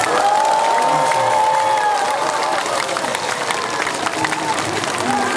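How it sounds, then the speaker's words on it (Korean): A large crowd at an 80th anniversary Liberation Day ceremony in Korea applauds steadily after a speech, with cheering and a sustained wash of clapping, while a voice carries over the top. "여러분 다시 한번 큰 박수 부탁드리겠습니다."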